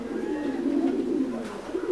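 Thai Titan meat pigeons coo at a pigeon farm in laying season, a close, continuous low throaty cooing with overlapping birds.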